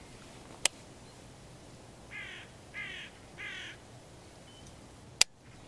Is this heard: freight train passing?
no